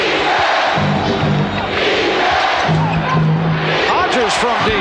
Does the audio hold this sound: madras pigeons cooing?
no